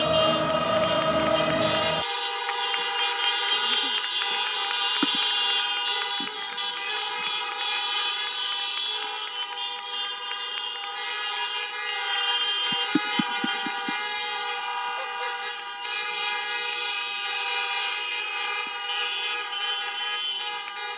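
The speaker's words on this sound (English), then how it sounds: "Now you can honk your horns like crazy." Many car horns honking together at an outdoor high school graduation celebration, steady overlapping blasts and toots sustained throughout, loud and close.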